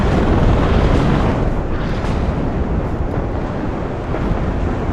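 Apache helicopter opening fire in the WARNO strategy video game, a loud, dense, continuous roar of gunfire and explosions that barely lets up for five seconds.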